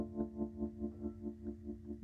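A held electric piano chord from a Rhodes MK8 swells and fades in a smooth, even triangle-wave wobble, around four pulses per second, soft and fairly faint.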